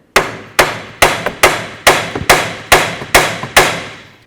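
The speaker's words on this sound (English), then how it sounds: "Just going to give this a couple loving bonks to set it in." Nine sharp hammer blows tap a CV axle into place on a 2004-12 Volvo S40, struck at a steady rhythm about half a second apart, each crack close, loud and quickly decaying.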